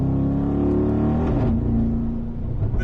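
Mercedes-AMG G63 twin-turbo G-Wagon engine pulling hard in second gear, a deep loud growl that dips and resumes as a gear shift passes mid-way, heard close from inside with no speech.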